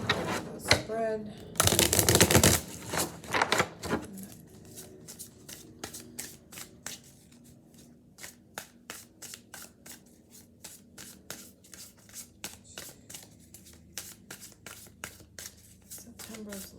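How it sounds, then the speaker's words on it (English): Tarot cards shuffled by hand, starting with a loud dense riffle burst and then a long steady run of crisp, rapid card flicks and taps, close up, with some speech early on. "So let's shuffle, focusing on the spread."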